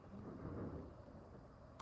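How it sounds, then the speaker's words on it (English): Thunder from a storm outside in Florida gives a faint, distant low rumble that swells and fades, heard through walls with no talking. "Excuse the thundering outside."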